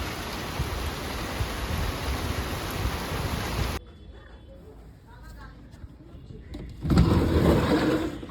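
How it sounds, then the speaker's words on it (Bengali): Heavy rain pours down in a dense, steady hiss, cuts off abruptly into a quieter stretch where a voice speaks, then returns just as loud near the end. "কি জোরে বৃষ্টি পড়ছে"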